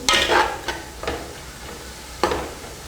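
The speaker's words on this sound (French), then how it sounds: "Nous allons mettre un peu d'eau pour permettre à ce que les légumes" Vegetables sizzling in a hot pan as water is added, giving a loud spitting hiss with a few sharp splashing and stirring bursts close by.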